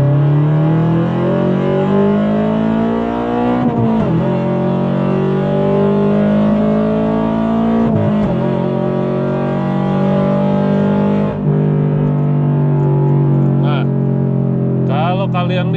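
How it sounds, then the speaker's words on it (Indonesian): A manually shifted 2023 Subaru BRZ with an EcuTek EP tune holds a loud, close engine rev, with brief dips at each flat-foot gear change before the revs climb again. "kita akan kasih lihat yang namanya flat foot shifting ya. Jadi gue bisa ngelakuin ngoper gigi tanpa gue harus ngangkat gasnya"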